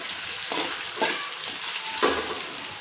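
Potato pieces fry in hot oil in a pan while being stirred for a spicy Maggi rice dish, a steady crackling sizzle broken by a few louder scraping stirs, close and without talk.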